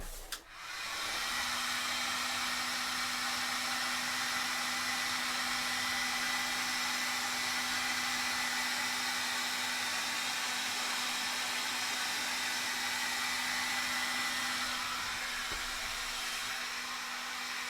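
A heat gun blows hot air over plastic thigh armour for a Sisters of Battle Warhammer 40K model, a loud, steady, close whooshing hum with a faint tonal whine that runs unbroken after a brief click at the start.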